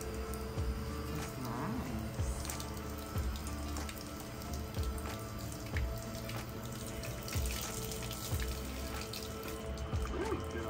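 Water splashes and trickles steadily while a dog is washed, a continuous close running-water wash with small irregular spatters and no talk.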